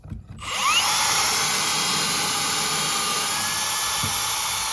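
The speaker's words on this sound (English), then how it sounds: "So I wanna drill down to about right there, just past where the taper stops" A power drill whines steadily into wood while boring a countersink after a brief start, a loud continuous high-pitched grinding hum up close, with no talking.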